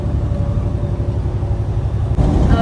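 A car cruising along an open road at sunset produces a steady, loud, close engine and tyre rumble that stays even throughout, with no voices.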